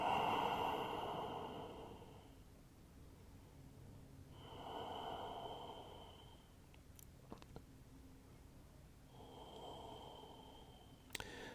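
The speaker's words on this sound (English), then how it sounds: "Deep breaths." Slow, deep breaths during a power yoga class: long airy inhales and exhales repeat in a steady rhythm, close and fairly soft, with a few small clicks and rustles between them.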